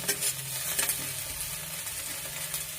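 Garlic and onion frying together in a pan for a papad curry, a soft, steady sizzle close by with a few light stirring scrapes, fairly quiet and without speech.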